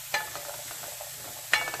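Spices with cayenne are stirred into coconut oil in a pan: two sharp scraping strokes stand over a faint continuous sizzle, close and quiet.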